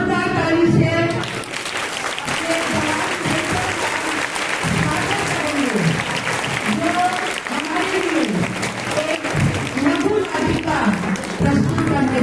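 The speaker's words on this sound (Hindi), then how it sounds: "जोरदार ताली से" Loud applause rises from a Christmas church gathering at a prayer hall, a dense sustained clatter of many hands close by, with voices talking and calling out over it throughout.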